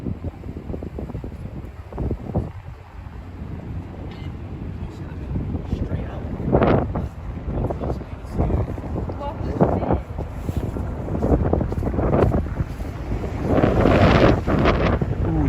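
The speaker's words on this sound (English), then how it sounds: "Wind is picking up again." Strong wind buffets the microphone outdoors in New York City near Hudson Yards at night, a constant loud rumbling roar with gusty surges, joined by occasional speech.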